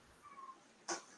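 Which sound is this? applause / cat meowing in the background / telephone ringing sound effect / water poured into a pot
cat meowing in the background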